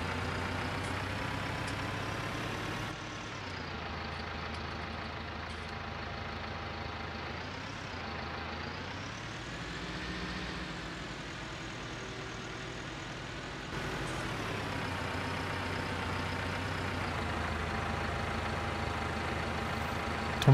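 In Farming Simulator 19 on PS4, a farm vehicle drives across a meadow with a continuous engine drone whose pitch rises and falls as it moves. No voices are heard over it.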